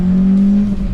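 An SR20-powered Infiniti G20 at full throttle gives a loud, close, steady engine drone for a brief moment with no talking.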